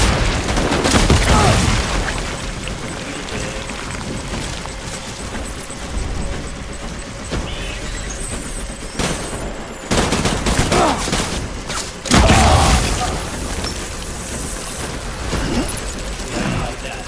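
Grenade launcher blasts and gunfire in the video game Death Stranding: heavy booming explosions and rattling shots, loud and close, with several big hits spread through a dense, continuous combat din.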